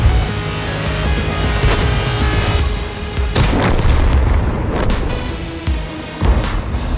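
Tank cannon shots and impacts boom over a continuous engine rumble and battle noise in a tank video game. Several sharp reports are spaced a second or two apart, all loud and close.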